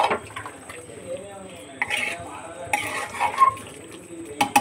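A pot of curry being stirred with a ladle, scraping and clinking of metal on the pan over a faint sizzle, with a voice talking intermittently.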